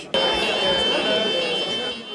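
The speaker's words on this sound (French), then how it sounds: "l'alarme du musée est déclenchée et les visiteurs priés de quitter les lieux" A museum alarm goes off during a protest at the Stella museum in Réunion, a loud, steady electronic buzzing tone that starts abruptly and holds, with voices talking underneath.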